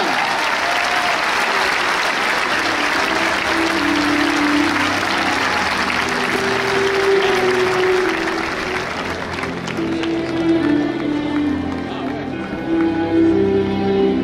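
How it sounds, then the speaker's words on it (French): A large arena crowd at the Cocarde d'Or course camarguaise in Arles applauds a raseteur, a loud, sustained roar of clapping that slowly thins as music and crowd noise take over. "Un tonnerre d'applaudissements pour le rasoteur Joachim Cadena."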